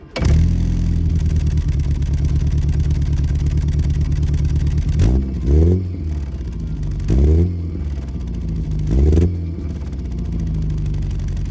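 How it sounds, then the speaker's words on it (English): A classic Mini's engine idles steadily, then three sharp revs swell and fall back, each a burbly blip from its Maniflow RC40 exhaust, loud and close. "This particular one's a Maniflow exhaust."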